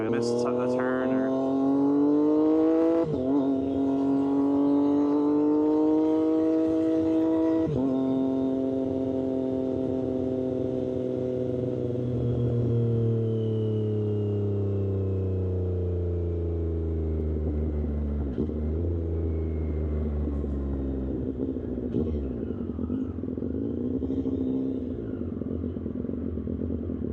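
A Triumph 765RS motorcycle fitted with a new exhaust and tune rides past with a loud, close engine note. Its pitch climbs and falls through gear changes, then settles into a lower rumble as the bike slows.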